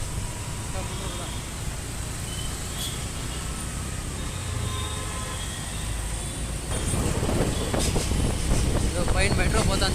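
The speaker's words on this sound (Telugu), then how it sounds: "పైన మెట్రో పోతాను చూడండి." Metro train passing on the overhead track above a street near a shopping mall, a broad rumble that swells louder in the last few seconds over steady road traffic, with voices in the background.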